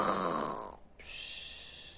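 A single loud snore imitated by a voice, a long rasping drawn-out breath that briefly breaks off and resumes more faintly.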